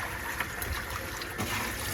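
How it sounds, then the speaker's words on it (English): Cold tap water runs and sloshes over jasmine rice being rinsed in a pan, a steady close trickling wash with a slightly louder splash near the end. "Cold water, and rinse it a number of times."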